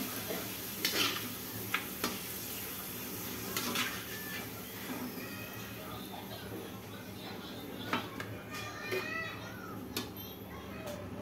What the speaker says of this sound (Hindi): तो आज पापड़ छान रहे हैं